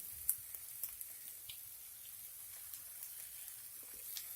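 Asafoetida powder sizzling in hot oil while tempering for Kerala-style sambar, a faint steady hiss of frying with occasional small pops and ticks.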